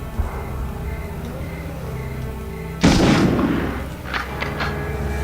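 One loud, close M1 Garand rifle shot cracks midway through a Medal of Honor game scene, followed by a few fainter metallic clicks and taps.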